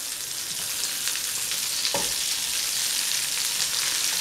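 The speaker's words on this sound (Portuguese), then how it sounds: "Uma colher de sobremesa de manteiga para fritar essas nossas verdurinhas aqui também" Sausage, tomato and bell pepper fry in butter in a pan, a steady close sizzle with fine crackling throughout and a brief stir or scrape near the middle.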